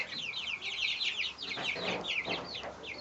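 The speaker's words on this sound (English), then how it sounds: "These are Silky chicks for those of you that are new to our channel." Silkie chicks peep constantly in high, rapid chirps, close and lively, with soft clucking mixed beneath the peeping.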